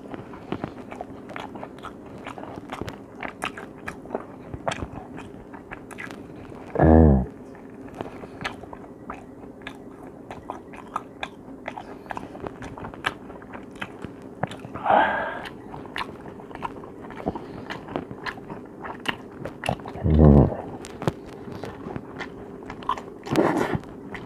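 Close-up chewing of a roast beef and garlic toast sandwich, a steady wet mastication with soft crunches, broken by three brief louder bites or swallows across the stretch, with no talking.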